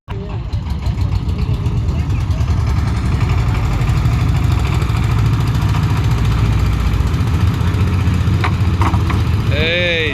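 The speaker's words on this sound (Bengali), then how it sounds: "একদম ইঞ্জিনের যত শক্তি আছে সব দিয়েই চেষ্টা করা হচ্ছে" A ferry boat's engine at a river crossing choked with water hyacinth, straining at full power, drones loud and close in a steady, heavy chugging roar that runs throughout, with a faint voice near the end.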